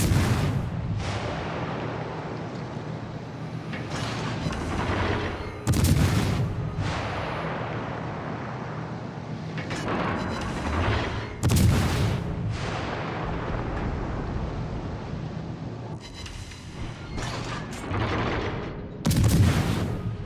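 Destroyer Z-23's 150 mm naval guns in World of Warships: Legends fire in heavy booming salvos, several loud blasts spaced seconds apart over a constant rumbling battle background.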